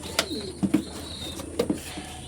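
A pair of pigeons coo close by in a few short, throaty bursts against a quiet room, with faint high chirps in the background.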